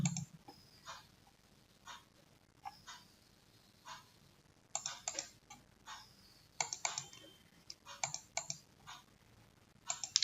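Soft, sparse computer mouse clicks and light taps come in scattered bursts against a quiet room, some clustered in quick runs, with no talking.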